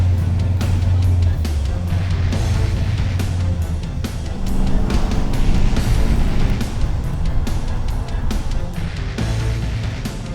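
A modified 1966 Chevrolet Suburban custom build drives off, its engine rumbling loud and close with a steady low drone and shifting road and wind noise throughout.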